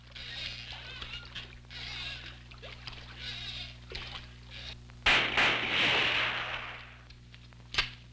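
Rhythmic splashing of oars dipping into lake water at a steady pace, followed by a bigger splash and churning water, then a sharp crack.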